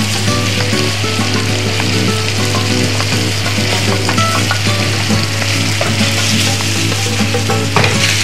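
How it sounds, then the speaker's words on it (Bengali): Hilsa fish sizzles loudly and steadily in a pan of hot oil while cooking for ilish pulao, with dense frying crackle throughout and a few faint clinks as the pieces are turned; no talking. "এইভাবে 1 পিঠ মাছ কষানো হলে আর 1 পিঠ এইভাবে উল্টিয়ে দিবেন।"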